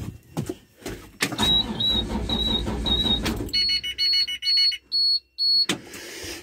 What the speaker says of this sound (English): I got the cord unplugged because my booster's beeping.